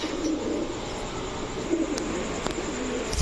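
Soft, repeated pigeon coos with a low murmuring rhythm, fairly close, over a steady background hiss and faint chirps.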